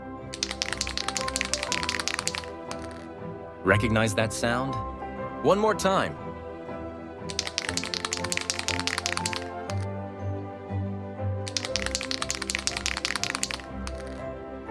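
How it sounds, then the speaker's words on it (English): A spray paint canister is shaken hard, its mixing ball rattling in three sharp bursts, with a person talking in the gaps between them. "Shaking spray paint canister."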